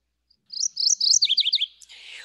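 A single warbler sings a clear, high run of quick repeated notes, rising then tumbling downward, ending in a brief rustle; close and alone.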